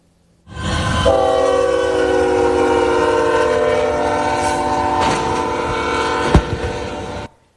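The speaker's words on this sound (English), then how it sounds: "that was the moment a train smashed into a tractor trailer hauling cars" A train in Texas sounds a long, loud, sustained horn blast while rolling past, with a sharp impact-like clank near the end before the horn fades out.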